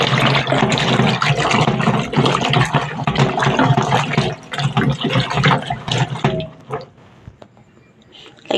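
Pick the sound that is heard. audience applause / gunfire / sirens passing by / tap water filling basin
tap water filling basin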